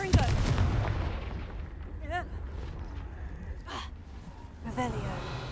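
A fiery Confringo blasting curse in Hogwarts Legacy goes off with a heavy boom and rumbling blast at the start, followed by crackling debris and a lower rumble, with short voiced exclamations and effort sounds scattered over the noise.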